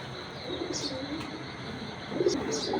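Chocolate-red racer pigeons cooing softly in a loft, a few low, gentle coos and faint chirps over steady background noise, close but quiet.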